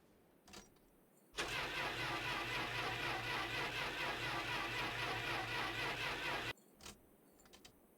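A car engine cranks and catches on a freezing day in the video game My Winter Car, roaring loud and steady for about five seconds before cutting off abruptly into quiet.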